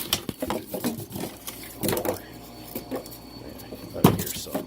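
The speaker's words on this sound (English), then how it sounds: "that's just cardboard rattling around" Cardboard packing rattles and scrapes inside the box of a Kreg Adaptive Cutting System as it is shifted about, with irregular bursts of knocking and rustling and quieter gaps between, close up.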